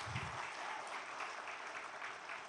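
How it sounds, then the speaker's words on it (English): A large crowd at a festival event claps together on request, a dense, even wash of applause heard from a distance and fairly faint, continuing steadily throughout without any voices over it. "Let's try a clap."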